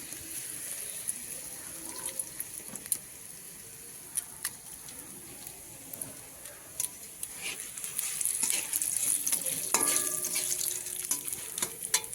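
Whole cumin, bay leaf and dried red chili frying in hot oil, a soft crackling sizzle with occasional sharp pops and spatters that grow busier toward the end, heard close with no talk.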